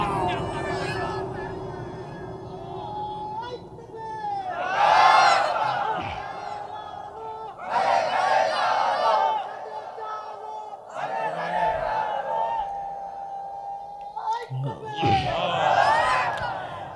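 A large crowd at a Bangla religious sermon gathering chants slogans in loud, repeated bursts between stretches of a preacher's amplified voice, with the voices swelling and fading over a sustained drone.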